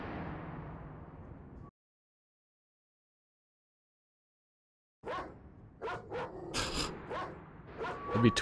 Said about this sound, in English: I'd be tweaking if my dog was barking at the ground.